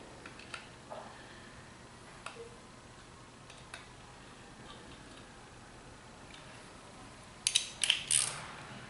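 Small M4 screws on a reed assembly being run down and tightened with a wrench, quiet scattered metallic ticks and clicks, ending in a short cluster of sharper clinks near the end.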